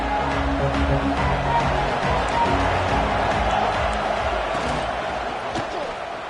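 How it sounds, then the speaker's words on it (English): Stadium crowd noise fills a college football game between Ole Miss and USC, a loud, steady roar of many voices that fades slightly toward the end. "Listen to the crowd energy here in the early going."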